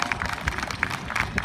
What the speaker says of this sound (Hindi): एक बार तालियां वालियां बजा करके मुझे माहौल दो